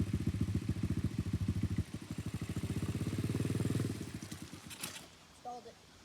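A 125cc dirt bike engine chugs in a steady pulsing idle, strains and slows as the clutch is let out, then sputters and stalls into quiet, with brief voices near the end.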